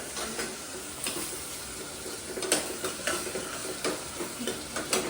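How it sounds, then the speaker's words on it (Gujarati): Tempered khichdi cooks in a pot with a steady sizzle, and a spoon stirs it now and then, scraping and clinking against the metal in quick bursts. "દિવ્યા બનાવે છે અહીંયા આગળ વઘારેલી ખીચડી"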